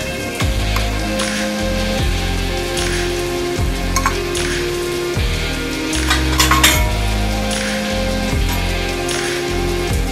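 Potatoes frying in a pan as ground cumin, Kashmiri chilli powder and other spices go in, a steady sizzle broken by repeated metal spoon scrapes and clanks against the pan, close and without talk.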